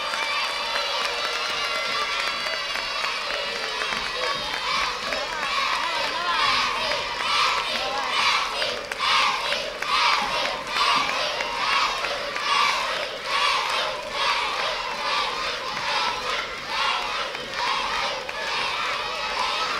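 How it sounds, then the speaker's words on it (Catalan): A large crowd, mostly children at a school cantata, applauds and cheers for the music teachers, with rhythmic chanting shouts pulsing over steady clapping for nearly twenty seconds. "Un fort aplaudiment per elles!"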